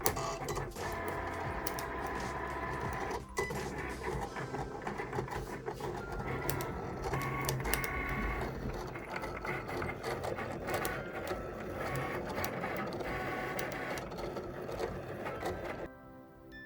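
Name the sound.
Cricut machine cutting glitter vinyl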